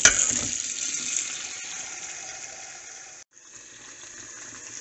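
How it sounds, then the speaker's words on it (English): Tap water runs steadily into a sink while an item is rinsed under the stream, a close, even hiss and splash that briefly cuts out before resuming. "I'm just rinsing it out."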